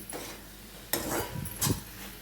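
A spoon stirs ivy gourd curry in a pot, with a few soft scraping and clinking strokes at close range and a low sizzle underneath.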